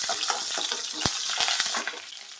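Chopped green chilies hit hot oil already holding a little urad dal, setting off a loud, close crackling sizzle with sharp spattering pops throughout.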